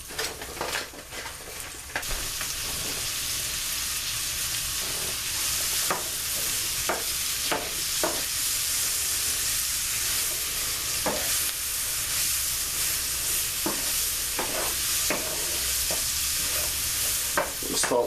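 Onions and mushrooms, previously frozen, sautéing in a pan for smothered pork chops: a steady close sizzle and frying hiss throughout, broken by repeated sharp clicks and scrapes of a utensil stirring against the pan.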